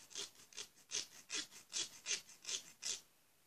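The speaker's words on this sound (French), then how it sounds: "vous lui donnez un petit coup de lime pour qu'il soit plus raffiné" A nail file rasps against a cut edge of a handmade pencil in nine steady back-and-forth strokes, quiet and close, with no talking.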